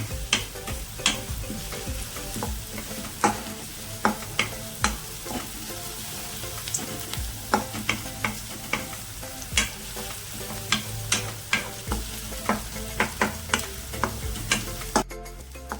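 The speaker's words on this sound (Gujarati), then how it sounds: "ડુંગળીને થોડીક શેકી લેવાની છે" Finely chopped onions sautéing in a pan for a gunda flower sabzi, giving a continuous soft sizzle, punctuated by regular sharp clicks of a spatula stirring against the pan, close and without talk.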